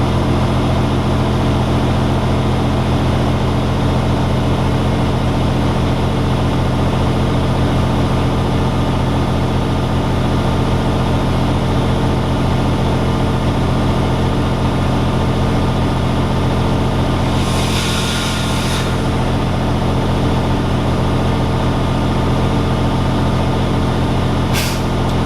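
A truck engine held at 1500 RPM during a Class A air brake test runs steadily at raised revs, a loud continuous diesel drone with a brief hiss of air partway through as pressure builds toward 120 psi.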